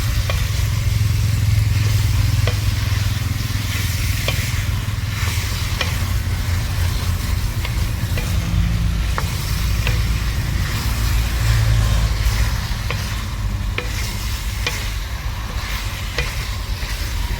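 Chicken frying in a kadai, a loud continuous sizzle with a heavy low rumble and occasional stirring clicks throughout.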